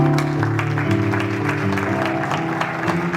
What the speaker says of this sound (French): on applaudit pour la gloire de Dieu.